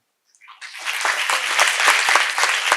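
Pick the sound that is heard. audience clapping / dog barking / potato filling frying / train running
audience clapping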